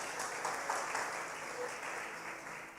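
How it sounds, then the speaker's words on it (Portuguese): A church congregation breaks into applause during a worship service, a dense, sustained clapping that fills the room steadily and fades slightly toward the end. "Forte aplauso ao Rei da Glória."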